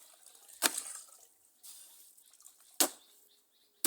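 Pounded palm fruit is washed by hand in water to separate the fibre from the kernels while making palm oil at home, giving three brief sharp splashes with quiet dripping and sloshing between them.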